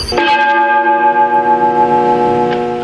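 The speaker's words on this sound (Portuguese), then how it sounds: "não é sino, é apenas uma gravação que imita o barulho de um sino" A recorded church bell played back from a church in Brotas, ringing as a single loud, sustained toll whose harmonic hum decays slowly with a faint shimmer, no voices present.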